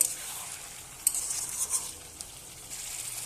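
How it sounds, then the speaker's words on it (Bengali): Hilsa fish curry with raw banana and potato being sautéed uncovered in a pan, giving a faint, soft sizzle with a few light scraping stirs and clinks, with no voices. "সেদ্ধ হয়ে গেছে, আমি আর ঢাকবো না, এবার ভালোভাবে কষাবো"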